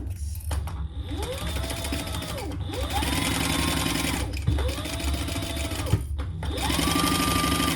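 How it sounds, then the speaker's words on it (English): A sewing machine stitches a seam on a zippy bag in several bursts, each run whirring up in pitch, holding, then stopping briefly before the next, close and fairly quiet. "sew your full seam allowance"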